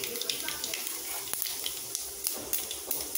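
Mustard seeds, cumin and fenugreek spluttering in hot oil for a Tamil egg paniyaram kuzhambu, a faint steady crackle of tiny pops and hiss with occasional sharper snaps.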